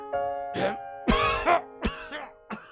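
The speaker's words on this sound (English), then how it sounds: "He began to cough profusely for about 20 seconds, non-stop." A rough, dry cough sounds in several close, harsh bursts with short gaps between them, raspy and strained.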